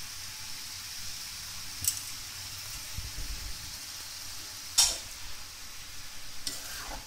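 Moong dal sizzles faintly in a hot pan for lauki sabzi, a soft steady frying hiss with a few sharper crackles and stirring noises.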